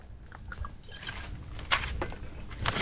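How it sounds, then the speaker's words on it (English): Olive oil pours into a roasting tray, giving soft, intermittent liquid splashes and trickles heard close up among light kitchen clatter. "I want to pour some olive oil in there."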